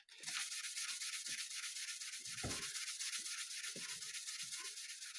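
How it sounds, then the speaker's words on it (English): Fine sandpaper rubbed back and forth over guitar frets, a close, loud, rhythmic scratching hiss in quick repeated strokes with faint knocks, no voices. "And now we're really polishing these frets."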